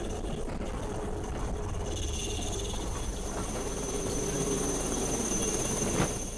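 An Indian Air Force rescue helicopter hovers during the Kerala floods, a steady, dense rotor and engine roar that holds constant throughout with no break.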